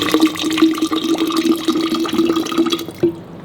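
Water being poured into blended mango juice, a steady close splashing and trickling pour that runs for a few seconds and then stops, with no voices.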